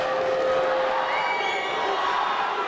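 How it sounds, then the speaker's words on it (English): A boxing crowd at a close fight roars in a sustained, loud wall of cheering and whoops, dense and unbroken throughout. "But listen to this crowd"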